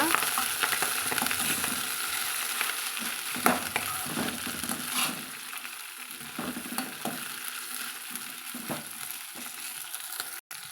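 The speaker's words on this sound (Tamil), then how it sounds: "நம்ம கீரையை சூழ்ந்தெடுத்து சேர்த்துக்கலாங்க சேர்த்துட்டு வதக்கி விட்டுக்கலாங்க" Ponnanganni greens with dried red chilies sauté in a hot pan, a close, steady sizzle with repeated stirring scrapes and rustles that ease off toward the end, and no voices.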